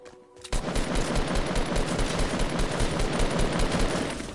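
Rapid automatic gunfire in the video game Smite, a dense, loud burst of shots firing continuously for several seconds.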